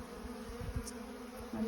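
Honeybees from a weak nuc colony give off a low, steady hum close by, with a person talking quietly over it.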